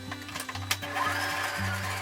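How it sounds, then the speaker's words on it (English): A sewing machine stitches a curved middle seam on a fabric face mask, a steady close mechanical whir with short stops and restarts every half second or so, no voices. "For sewing machine owner, sew the middle part first,"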